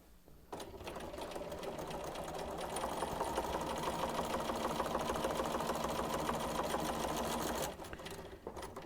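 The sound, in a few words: sewing machine sewing a quilt strip onto a square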